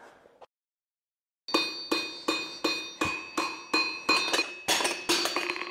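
Steady, evenly spaced hammer blows ring on hot metal at a blacksmith's forge, about a dozen bright clanging strikes with a short pause before they begin.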